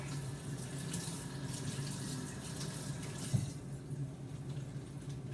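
A kitchen faucet runs steadily while bell peppers are rinsed under it for a New Orleans holy trinity, a continuous close wash of water with a brief splash near the middle.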